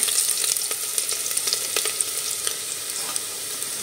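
Crushed garlic frying in hot oil until golden brown for dal khichdi, a loud continuous crackling sizzle with sharp pops and spatters, close up and alone.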